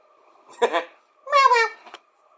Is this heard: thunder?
no